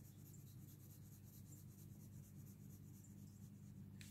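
Soft coloured pencils scratch steadily across paper while a stamped strawberry is coloured in, a faint, continuous dry rasp of even strokes with no talking.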